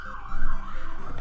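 A short wailing emergency siren sound effect plays loud and alone as a quiz intro, its pitch rising and falling.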